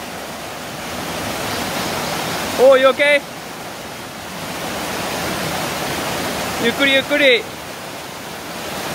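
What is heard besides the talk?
strong river current flowing on Iriomote Island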